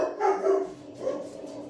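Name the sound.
dogs barking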